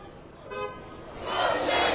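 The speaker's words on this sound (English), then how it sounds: "The few cars on the road honking their horns, not in anger, but solidarity" Car horns honk in a street during an anti-Trump protest in Portland, Oregon: a short horn toot sounds early, then crowd noise and traffic swell louder toward the end.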